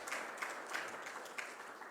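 Applause from a symposium audience, faint and distant, a thin patter of scattered claps that runs steadily for the whole clip.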